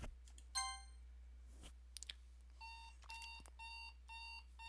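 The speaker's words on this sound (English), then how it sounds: "I hear my alarm clock going off" A video game alarm clock rings in the Doki Doki Literature Club mod, sounding as repeated electronic beeping bursts over a steady low hum, with a few clicks between them.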